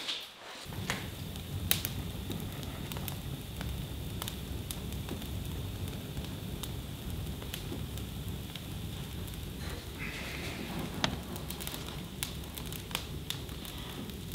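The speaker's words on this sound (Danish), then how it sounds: "Sivet er godt i gang med at knække." A reed campfire burns outdoors at night on a Swiss mountaintop, with dense, steady crackling and frequent sharp pops and snaps close by, continuous for the whole stretch with no talking.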